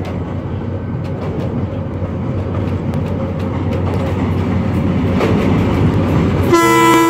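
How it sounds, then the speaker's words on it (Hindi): A GMU-30 diesel locomotive approaches fast over the Malir rail bridge in Karachi, with a low engine rumble and wheel clatter that build steadily louder. A loud horn blast comes near the end. "हमें एक GMU-30 की लाइट दिखी जो कि तेजी से हमारी तरफ आ"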